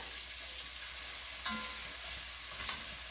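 Chopped garlic cloves fry with onions in a pan for a Greek spiced braised chicken, giving a steady, close sizzle and crackle with a few soft stirring scrapes and no voices.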